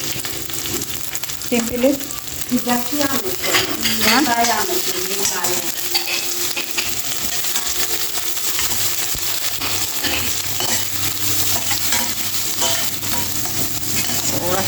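Garlic, ginger and onion fry together in a hot pan, a loud continuous sizzle with stirring scrapes and clinks near the start; a brief spoken word is heard.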